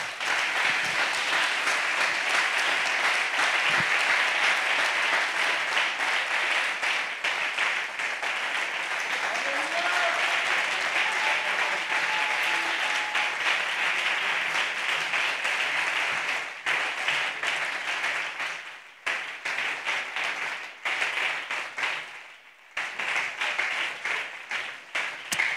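A church congregation claps and applauds continuously for a long stretch, dense and steady with a few brief dips, with some voices mixed into the clapping.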